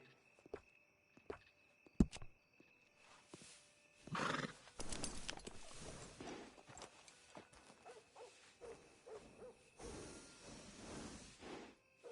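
A horse in Red Dead Redemption 2 gives a loud whinny and then walks with soft clip-clopping hooves, scattered clicks beforehand and quieter movement afterward.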